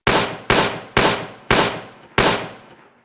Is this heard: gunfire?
yes